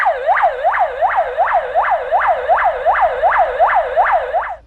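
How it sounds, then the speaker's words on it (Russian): An ambulance arrives at an apartment building in Magas, its wailing siren loud and close, rising and falling in a fast, even cycle about ten times before it cuts off. "на пульт нажали жильцы со второго этажа, которые услышали сирену кареты скорой помощи"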